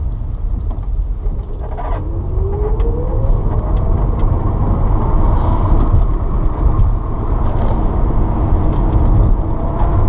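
An electric-converted Porsche 912 pulls away in third gear, a faint motor whine rising gently in pitch over dense road and tyre rumble heard from inside the cabin, steady and without talk.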